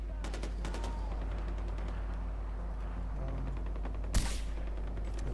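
Video game gunfire in short rapid bursts of sharp cracks, mostly early on with one louder blast near the end, set against a steady low hum of game background.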